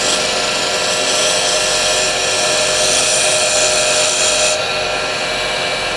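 A grinder sharpens the burr on a woodturning scraper, giving a loud, steady, unbroken high whine with a gritty hiss that holds throughout, with no voices.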